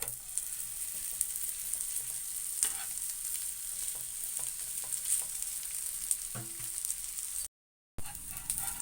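Rava adai cooks in a little oil on a pan, a continuous close sizzle with occasional scrapes and stirring ticks, briefly cut to silence near the end.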